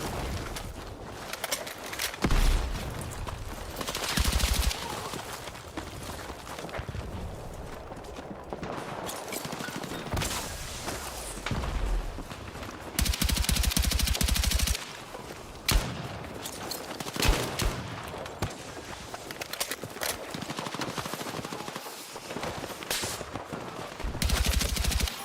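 Infantry fighting vehicle cannon fire on the Grand Bazaar map in Battlefield, sounding as loud bursts and sustained rattling volleys that come and go across a busy battle soundscape.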